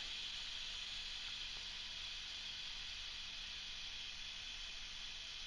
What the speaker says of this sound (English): So we'll let that steam pressure get out of there.